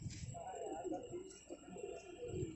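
Pigeons kept as gola fighter birds coo softly in low, rolling phrases, faint and somewhat distant, with speech mixed in.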